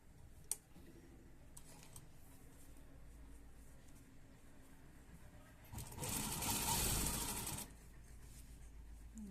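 A sewing machine stitches a V-shape neck on fabric in a single brief, close whirring run of about two seconds, with quiet handling noises before it.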